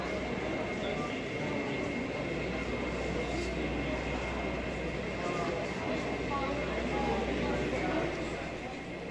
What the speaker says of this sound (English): As it comes to a stand, a BNSF intermodal train passes in the opposite direction.